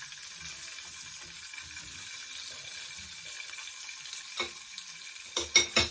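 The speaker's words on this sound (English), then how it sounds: "I think this takes like 5 minutes to fry" Beef steak frying gently in a pan over very low heat, a faint steady sizzle with soft low rumbles, then a few sharper clinks and sputters toward the end.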